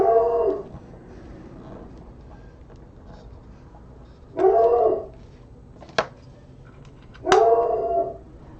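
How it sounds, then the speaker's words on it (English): Neighborhood dogs bark and howl from a distance, three drawn-out yowling bursts separated by pauses, with one short sharp yip in between, faint against a quiet indoor room. "I hear all the neighborhood dogs barking right now"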